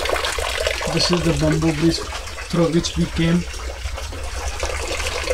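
Water flows out of the mountain at a cave in Laithmawsing, Meghalaya, rushing in a constant nearby wash beneath a man's speech.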